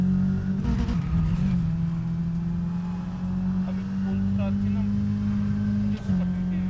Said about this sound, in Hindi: क्या आवाज था भाई वो गाड़ी का